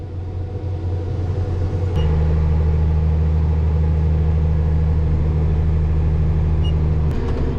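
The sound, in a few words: combine harvesters running in a field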